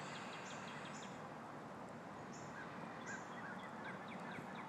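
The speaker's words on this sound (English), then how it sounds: "we begin this morning again with the sounds of the crow" Crow calling in the early morning, its faint, distant cries repeating a few times over a steady wash of outdoor background noise.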